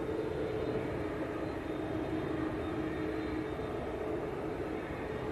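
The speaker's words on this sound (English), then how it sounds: "And here is our first departure off runway 2." An easyJet Airbus A320 departs off runway 2 at Manchester, its engines giving a steady, broad jet roar that holds evenly throughout, moderately loud and heard at some distance, with no talk over it.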